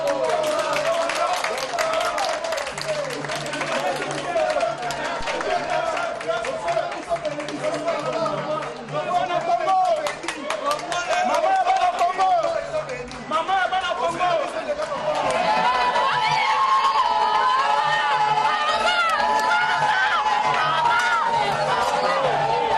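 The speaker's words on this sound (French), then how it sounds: "une foule compacte, fanatique de ses œuvres, a tenu à l'ovationner" A dense crowd cheers and claps in ovation for Olive Lembe Kabila, the Congolese first lady, at an outdoor medical campaign event. Loud, continuous chatter, shouts and scattered applause carry on throughout, with a rise in intensity toward the end.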